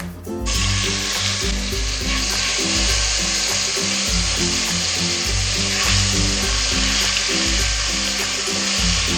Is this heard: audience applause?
no